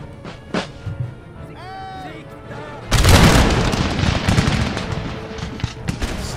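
Battlefield sounds from Empire Total War: a brief whistling tone, then a heavy burst of artillery and musket fire that swells into a dense, rumbling roar of booms and cracks, with a voice talking underneath.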